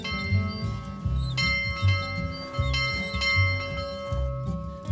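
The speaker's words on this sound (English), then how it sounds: "I think everyone must ring the bell," A bell at a small chapel rings in a slow steady series of clangs, each with a lingering metallic ring, moderately close with light background noise between strikes.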